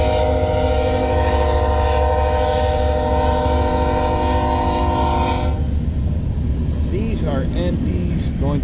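A BNSF freight train of empties heading north to Oakland, Nebraska, on the Sioux City sub near Winslow sounds a loud, sustained chorded horn over rumbling wheels, then the horn cuts off while the cars keep rolling past, with squealing metal.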